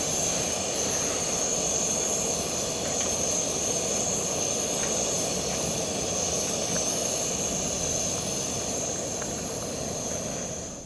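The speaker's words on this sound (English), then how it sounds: "burner actually started burning hotter, and you could hear the difference" An MSR WhisperLite backpacking stove burner roars steadily, a loud broadband rushing hiss with a faint high whine, unbroken and close, with no talking.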